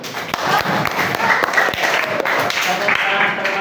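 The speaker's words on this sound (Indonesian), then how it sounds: "Tepuk tangan." A classroom at SMAN 11 Garut claps after a student presentation. A close, busy patter of many hands goes on with some sharper individual claps, and faint voices sit underneath.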